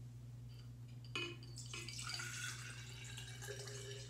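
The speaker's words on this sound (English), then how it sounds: "I'm gonna pour some of this water, which I left out overnight," Water left out overnight is poured into a glass, starting with a short clink and then a steady, close trickle that fills and gurgles quietly over a low background hum.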